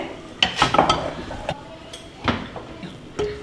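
Boiled lentils (dal) being mashed in a pot, heard as irregular metallic clinks, taps and scrapes of a utensil against the vessel, close and fairly loud with quiet gaps between.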